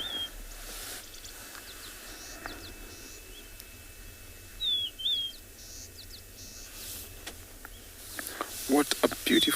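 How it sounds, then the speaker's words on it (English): Birds sing at sunrise in the African wilderness on a safari morning, faint scattered chirps and whistles over a low ambient hum, with a few brighter calls near the end. "How cool is that to wake up in the morning with such a melodious song from these birds?"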